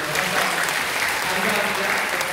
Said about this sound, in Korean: 우리 축복하는 마음으로 뜨겁게 박수 주시면